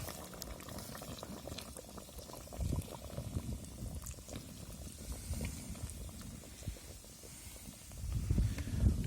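Pork belly simmers in beer with a continuous bubbling and gurgling boil, close and moderately loud, and the bubbling swells near the end.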